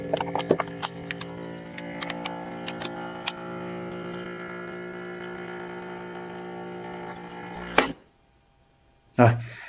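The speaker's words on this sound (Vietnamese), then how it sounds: "chúng ta sẽ bấm nút hút và máy sẽ bắt đầu hút." An HTG P290B automatic vacuum sealer runs its pump, giving a steady, fairly loud mechanical drone with a low hum that lasts about eight seconds and then cuts off, followed by a short click near the end.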